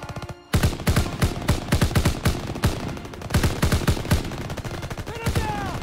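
Rapid bursts of automatic gunfire from a World War II video game weapon, loud and close, firing in repeated volleys with brief pauses, a short silence at the start and faint game sounds near the end.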